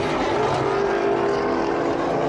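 A race car at Sebring Raceway, a steady loud engine roar held throughout with a slight swell in the middle, heard at close range without voices.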